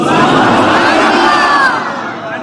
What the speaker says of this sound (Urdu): ایک دفعہ مردوں کی طرح زور سے بولے سارے،